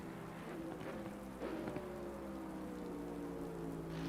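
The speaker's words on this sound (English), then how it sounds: "I don't know how long the rain's going to last." Rain in a racing video game at the Red Bull Ring, a soft steady patter over a low engine drone, with a faint whine rising partway through.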